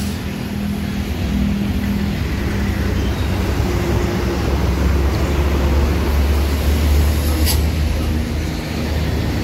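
An Al Hijrah bus pulls in with a steady, loud low engine rumble and road noise throughout, close by, with faint background voices.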